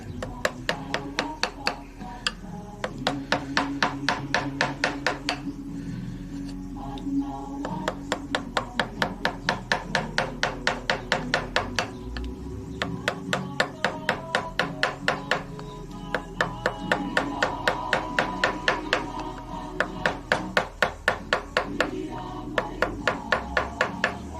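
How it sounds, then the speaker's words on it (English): V-chisel carving brittle rimu wood, bursts of rapid rhythmic tapping like a mallet striking the chisel, repeated in runs with short pauses, close and moderately loud, with occasional talk underneath. "What chisel are you using? Just a V."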